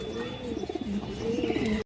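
A Kagji pigeon coos in repeated low, rolling phrases close by, with a faint steady hum behind it.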